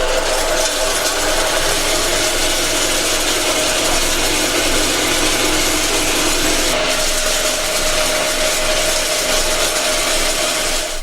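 A milling machine grinds dried bananas into flour with a loud, continuous, broadband roar and a constant hum, steady and close throughout with no pauses.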